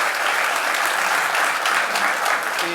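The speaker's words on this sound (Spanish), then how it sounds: "Quiero pedir un aplauso" Steady applause from a university lecture audience, a dense even wash of many hands clapping at close range without pause.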